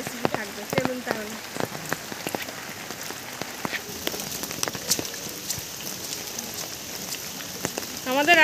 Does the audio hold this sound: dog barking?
no